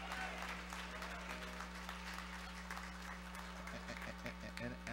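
A church congregation at an usher anniversary service breaks into steady applause, faint and distant beneath a constant low electrical hum, with voices mixed in.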